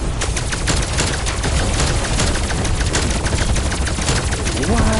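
Loud, continuous gunfire in the video game Outlast, a dense, rapid run of shots that fills the whole stretch with little pause.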